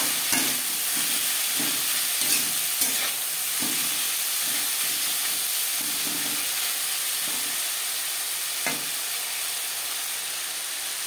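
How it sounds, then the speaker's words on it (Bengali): Potatoes mixed with salt and turmeric in a frying pan for crispy aloo bhaja: a steady sizzling hiss runs throughout, with regular soft scraping stirs in the first half and a few sharper clinks. "লবণ হলুদ আলুর সাথে বেশ ভালো করে মিক্স করে দেবো।"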